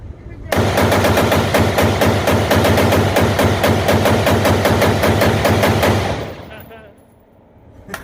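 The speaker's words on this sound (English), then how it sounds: "let's just try a mag dump" A JP Enterprises AR-15 rifle empties a full magazine in rapid fire, about five and a half seconds of fast, evenly paced, loud close shots that stop abruptly and leave a fading echo.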